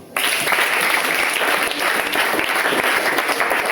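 Church congregation breaking into loud, sustained applause and cheering for Jesus, a dense burst of clapping that starts abruptly and holds to the end.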